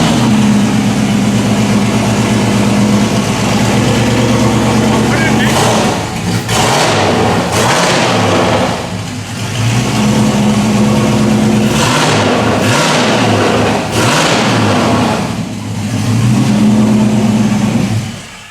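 An LS-swapped Ford Bronco with no muffler runs loud and raw, its rumbling idle rising into several revs, with people talking over it now and then.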